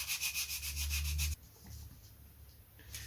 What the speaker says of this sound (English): It's got to be sanded round. So let me take the edges off.